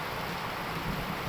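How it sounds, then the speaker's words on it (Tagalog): Heavy rain pours in a dense, continuous roar, loud and steady throughout with no breaks, filling the whole scene. "Sobrang ulan, ang tindi."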